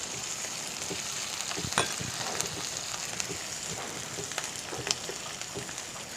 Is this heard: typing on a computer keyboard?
no